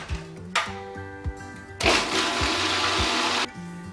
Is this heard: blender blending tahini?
yes